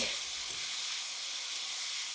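Cauliflower and beans frying in oil in a wok, a steady close hissing sizzle with no pauses, lasting about two seconds.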